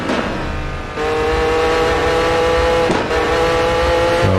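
A race car in the Assetto Corsa racing sim is driven hard, its engine revving loud and close with a sustained high whine, broken by two brief gear-change dips before climbing again.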